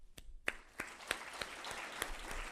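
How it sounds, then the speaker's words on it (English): A small conference crowd applauds, a steady patter of clapping with a few louder individual claps standing out, heard from a slight distance. "give everybody a round of applause who put in the time and effort to"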